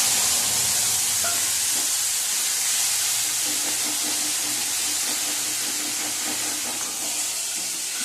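Spice paste of cumin, coriander, chilli and ginger fries in oil for dalia khichuri, giving a steady, loud hiss and sizzle with faint stirring. It runs for the whole stretch with no speech.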